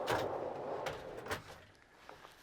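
A locking drawer in a Mercedes Sprinter camper van glides out on its slides with a smooth rolling whoosh, a couple of soft clicks and clunks as it extends, fairly close.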